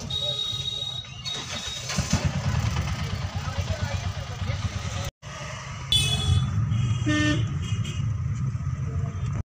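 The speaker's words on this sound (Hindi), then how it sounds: "यहाँ इतना ट्रैफिक इतना ट्रैफिक" Busy street traffic rumbles close by with engines idling and passing, and several car horns toot and honk in short bursts, one long sustained honk standing out, while someone talks over the noise.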